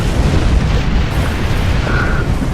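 Torpedo explosions from the space combat game Star Trek Online roll out as a continuous loud, deep rumbling boom with no pauses.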